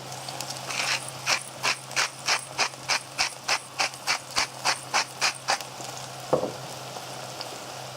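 Pepper mill grinding peppercorns over a pan of garlic-infused oil, about fifteen even, rhythmic ratcheting crunches in quick succession, close and clear over a faint steady sizzle, followed by a single sharp clack.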